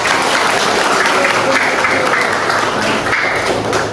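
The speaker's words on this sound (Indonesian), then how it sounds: "saya ingin kita aplaus sekali lagi untuk Ibu Mumun" An audience claps for the teacher Ibu Mumun at an educators' session, a dense continuous round of applause filling the room at a steady loud level from start to end.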